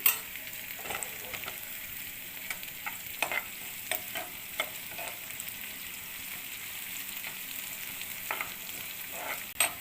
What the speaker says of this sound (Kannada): ಈಗ ಈರುಳ್ಳಿನ ಫ್ರೈ ಮಾಡ್ತಾ ಇದ್ದೀನಿ